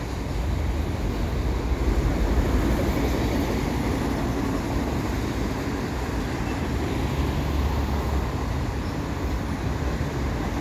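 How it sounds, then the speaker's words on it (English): An eastbound CP mixed freight train passes below a footbridge overpass on a summer evening, a loud continuous low rumble and rolling roar that holds steady throughout without letting up. "there's an eastbound CP freight train"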